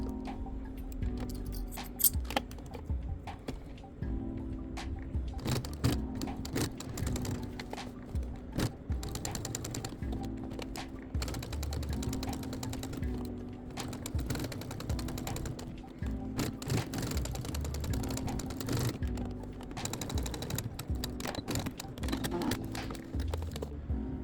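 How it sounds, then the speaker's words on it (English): A sewing machine with a stitch-in-the-ditch presser foot runs along the front waistband seam of a ruched skirt, giving a steady mechanical whir with rapid ticking that continues for a long stretch, with brief pauses. "do a stitch in the ditch along the front waistband seam to secure the inside edge"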